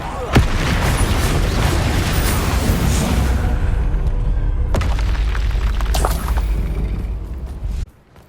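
A Bombarda spell explosion in the Hogwarts Legacy video game sets off a loud, sharp boom, followed by a long rumbling roar and debris crackle that cuts off abruptly near the end.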